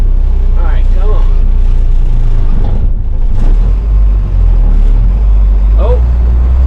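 A 1981 International truck engine drones steadily with a heavy low rumble while driving, with cab rattle and road noise throughout.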